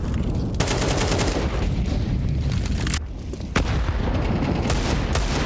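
Rapid pistol shots in Counter-Strike, including a Desert Eagle, crack in quick bursts and scattered single reports over a constant match din, with one brief lull before firing resumes.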